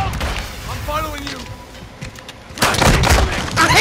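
Shotgun blasts in a video game thump in a couple of heavy booms, the last ones louder, amid chaotic game noise and a voice talking early on.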